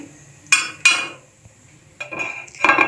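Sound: yogurt being spooned onto a plate, cutlery clinking

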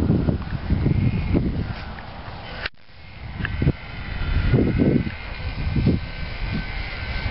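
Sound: HobbyZone Champ RC airplane flying at half throttle

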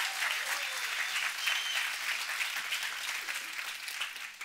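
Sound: congregation clapping in praise

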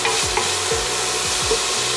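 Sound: onion, carrot and mushrooms stirred in butter in a pan

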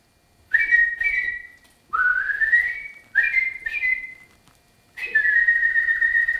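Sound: whistled imitation of a blackbird's song

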